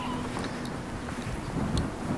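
Wind gusts across the Hörnle mountain summit as a steady rushing roar buffeting the microphone, with faint clinks and a few muffled voices beneath.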